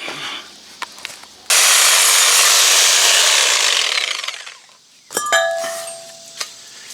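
Exhaust pipe being cut for a Thrush turbo muffler install on a four-cylinder car, a loud steady rasping saw cut lasting about three seconds before tapering off, followed by faint clinks and metallic handling.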